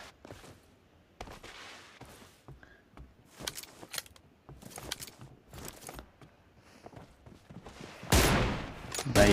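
Gunfire in a mobile battle game with an M24 rifle, heard as a rapid string of sharp digital shots and clicks over game ambience, building to a loud, dense burst of fire near the end.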